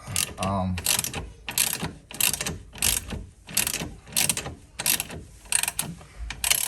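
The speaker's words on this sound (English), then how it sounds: "Use a wrench, and let me see if I got enough power to get this out." A ratchet wrench backs a bolt out of a Rev9 Hyper Street II coilover on a rear-wheel-drive Dodge Charger. It gives repeated rhythmic clicking bursts, about ten of them, close and fairly loud, with a brief voice near the start.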